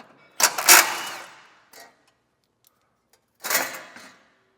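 A 16mm socket wrench works loose an attachment point on a 2023 Jeep Gladiator bumper, giving two short, close bursts of metallic ratcheting and rasping separated by a quiet pause.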